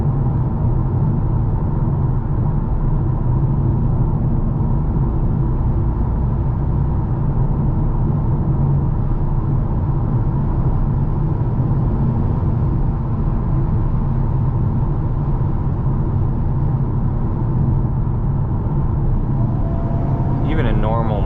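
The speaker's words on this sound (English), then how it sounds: "Turbo spools up very quickly, and you have good power coming out." Inside a 2023 Hyundai Kona N on the move, the turbocharged engine and road noise form a steady low rumble for the whole stretch.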